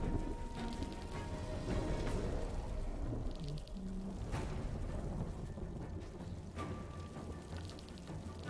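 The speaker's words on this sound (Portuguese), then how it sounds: "E todos ficamos surdos agora, porque eu joguei 3 relâmpagos aqui dentro." Thunderous magic blasts from a lightning spell in the fantasy video game Solasta: Lost Valley, cast three times inside a tomb, form a loud, dense roar of crackling rumble that carries on steadily throughout.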